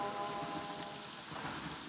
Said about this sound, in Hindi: क्यों, बारिश में भीगने की आदत नहीं गई क्या?